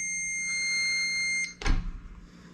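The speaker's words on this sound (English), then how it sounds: "there's an audible alarm on the boiler. And I unplugged it, and the alarm's still going off." A Navien combi boiler's audible alarm beeps steadily with a high electronic tone for about a second and a half, then cuts off, followed by a brief thud and clatter nearby.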